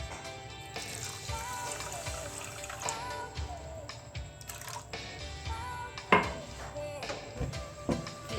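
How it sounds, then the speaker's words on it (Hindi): Water is poured onto sugar in a small kadai over a flame for syrup, giving a steady wet splashing and trickling with light metallic clinks and taps from the pan throughout, with no talking. "और साथ ही मैं इसमें डाल दूँगी पानी"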